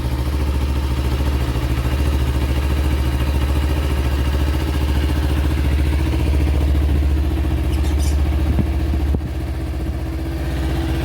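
A motorcycle engine idles steadily and evenly just after an oil change, a continuous close low rumble with a light mechanical clatter and no talking.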